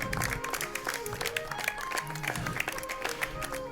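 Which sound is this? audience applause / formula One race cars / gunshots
audience applause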